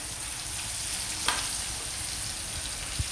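Chicken pieces fry in a small amount of oil, Kerala style, giving a steady, close hiss of sizzling throughout, with a brief stir or clatter partway through and a faint knock near the end.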